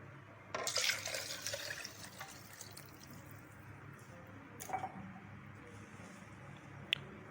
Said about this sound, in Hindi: अब दूध डाल लेंगे।